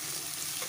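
Onions frying and being stirred in hot oil in a pan, a dense steady sizzle that fills the whole short moment without any voice.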